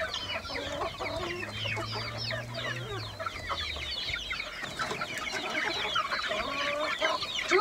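A flock of hens clucks steadily in a farmyard, with overlapping calls from several birds at close to moderate distance and a low hum underneath during the first few seconds.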